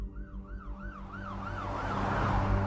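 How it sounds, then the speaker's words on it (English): Ambulance siren wailing in a steady repeating up-and-down sweep, growing louder as the vehicle approaches, with road rumble and other traffic underneath. "Minutes later, an ambulance arrived, followed by a fleet of police cars."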